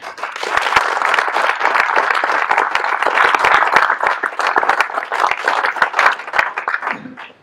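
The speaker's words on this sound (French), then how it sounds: "beaucoup d'applaudissements" Loud, sustained applause from an audience at a mayor's final inauguration ceremony in Pleucadeuc, dense overlapping claps running steadily for several seconds before tapering off at the end.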